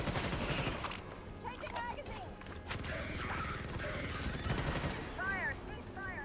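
Rapid gunfire crackles in the Starship Troopers: Extermination video game during a hive-hunting mission, a dense, continuous rattle of shots mixed with creature chirps and game effects, loud throughout.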